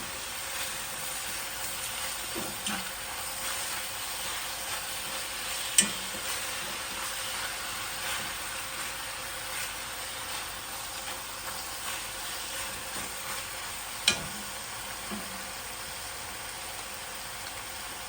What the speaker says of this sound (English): And when I add ground meat, what I do is I like to break it up. I literally use a potato masher to break it up.